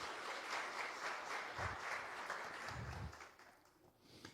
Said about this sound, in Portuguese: Os homens podem aplaudir Jesus por essa mulherada linda?